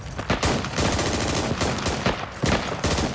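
Gunfire fills a SQUAD video game battle in the Kohat Toi river valley, with dense, loud bursts of automatic shots that overlap and come in quick succession.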